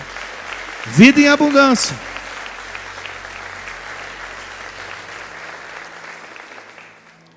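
Someone speaks a short phrase over the start of a church congregation's sustained applause, which continues steadily alone afterward and slowly fades.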